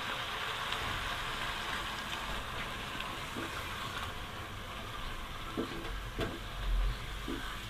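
About one and a half cups of liquid milk pours into a simmering mixed-vegetable curry, a steady hissing, bubbling wash of sound with a few soft clinks and bumps near the end.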